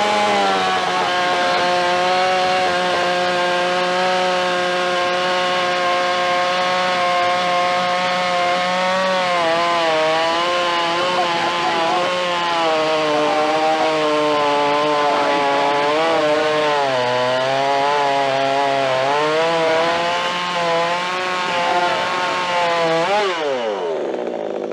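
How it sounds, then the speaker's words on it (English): A Buco chainsaw runs continuously at high revs for over twenty seconds cutting hardwood, its pitch dipping and wavering as it bites into the wood, then cutting off at the end. "the Buco chainsaw through the hardwood"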